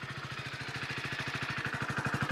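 A Hero Splendor Xtec 2.0 commuter motorcycle idles steadily, its single-cylinder engine putting out a rapid, even low putter at moderate level with no one speaking.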